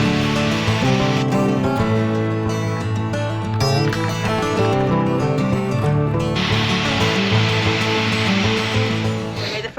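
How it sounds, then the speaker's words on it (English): A magnetic drill bores a test hole in metal while mounted for a DIY lead boat keel project, a steady loud grinding whir with harmonic machine tones running continuously throughout. "So we managed to mount this magnetic drill, and now we're gonna try to"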